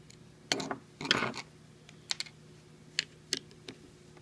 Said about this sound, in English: Next, we're going to take out the two Phillips that holds the gear in place.